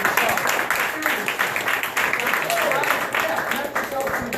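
Audience clapping fills a talk for bar professionals, a dense, steady patter of many hands sustained throughout with some voices mixed in.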